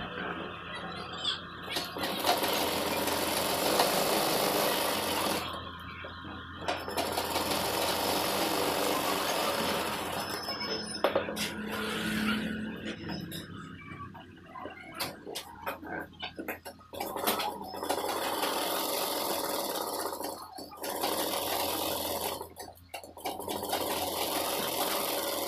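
A sewing machine stitching trouser fabric runs in loud, steady bursts of rapid mechanical whirring, stopping and restarting several times with short pauses between runs.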